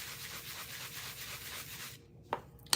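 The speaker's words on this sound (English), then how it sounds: "I'm gonna go ahead and sand this." An acrylic keychain blank is sanded by hand in steady, rhythmic rubbing strokes for about two seconds. Then the scratching stops and a couple of small knocks follow.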